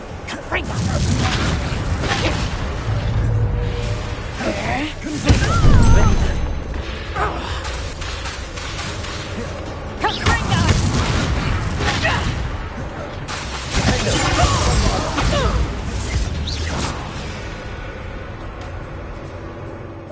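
Incendio fire spells blasting in the Hogwarts Legacy video game, several loud booming bursts with whooshes and crashes spread across the stretch, mixed with game sounds and spoken voices.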